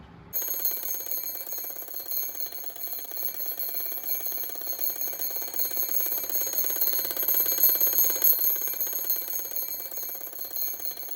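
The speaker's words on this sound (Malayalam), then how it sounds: "അലാറത്തിൻ്റെ സൗണ്ട് എല്ലാവരും കേട്ടല്ലോ, ഭയങ്കര ലൗഡ് സൗണ്ടാണ്." An alarm clock ringing loudly and continuously with a dense, shrill metallic bell tone that starts abruptly and holds steady for several seconds, close and alone.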